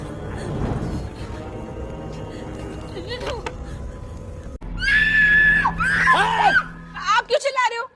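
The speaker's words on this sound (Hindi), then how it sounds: "आप क्यों चिल्ला रहे हो? क्योंकि तुम चिल्ला रही हो।" People scream loudly in a series of shrill, overlapping shrieks that start midway and continue in bursts, following a quieter stretch of faint voices and background sound.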